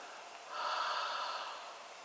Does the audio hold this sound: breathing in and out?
yes